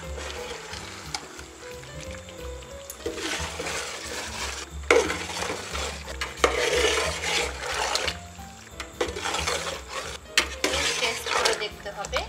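Chicken roast stirred in a pot after lemon juice goes in, repeated scraping and clanking of a spoon against the pot in uneven bursts over a low simmering hiss.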